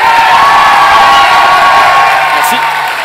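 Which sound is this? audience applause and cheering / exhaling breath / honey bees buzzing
audience applause and cheering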